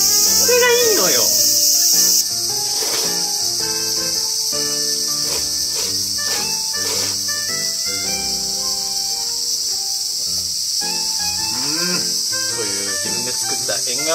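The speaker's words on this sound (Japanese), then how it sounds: "みんなセミの音うるさいよね。" Summer cicadas buzz loudly and without a break outdoors beside the veranda of an old Japanese country house. The dense, high drone runs over quieter tonal sounds underneath.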